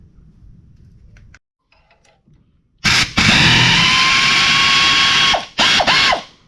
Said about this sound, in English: Now we have to undo these 4 bolts.